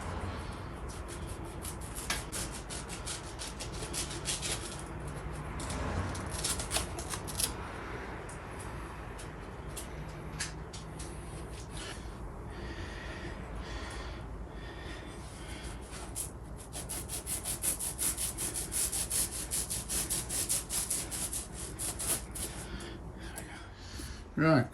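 Material being cut to shape for a motorhome bed, steady rubbing and rasping scrapes with scattered clicks and knocks, fairly close, with speech heard through much of it.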